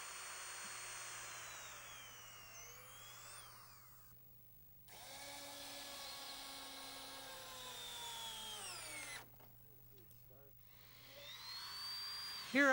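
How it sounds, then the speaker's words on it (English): A power drill bores pilot holes through wooden decking in several whining bursts that rise and fall in pitch, separated by brief pauses, over a low steady hum. "we drill pilot holes through the decking"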